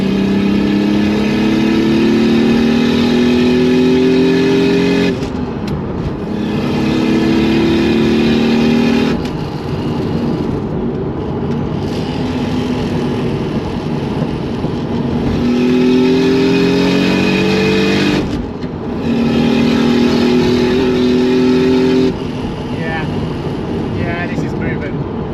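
A manual single-turbo Toyota Supra pulls hard through the gears, loud engine rising in pitch over several seconds, then a short break at each shift before climbing again, with the engine noise filling everything.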